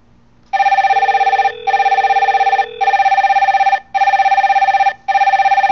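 An office VoIP desk phone rings on a call placed from one 3CX phone extension to another: five loud, steady electronic ring bursts separated by short pauses, with no talking.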